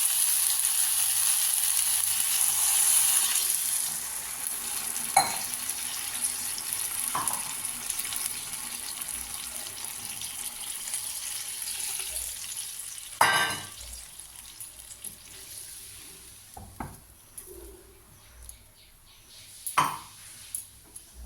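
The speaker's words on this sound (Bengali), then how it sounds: "মশলা কষানো হয়ে গেছে, তেল ছেড়ে দিয়েছে এটা। এবার একটু জল দিয়ে দেবো।" Cooked-down spice paste for a rohu fish curry sizzles loudly in a pan, then settles to a softer bubbling once water is poured in. Occasional utensil clinks punctuate it.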